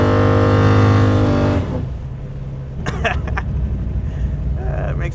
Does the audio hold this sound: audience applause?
no